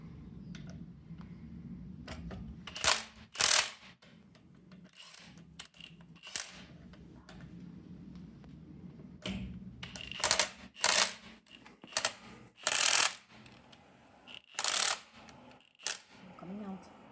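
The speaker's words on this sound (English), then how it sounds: "Let's get the impact gun and get that wheel out of there." Pneumatic impact gun loosening the wheel nuts on a BMW E90 during front brake work, firing in several short loud bursts with quiet gaps between them in a garage.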